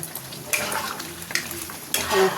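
Malai chicken sautéed and stirred in a pan: a steady sizzle of frying with several distinct scraping strokes of a spoon against the pan, close and fairly loud, with no voices.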